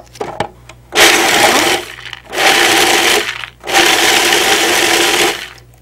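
An old Cuisinart food processor without a pulse button blends a raw date dessert mixture in three loud whirring bursts, each about a second long, separated by short stops, close up with no talk.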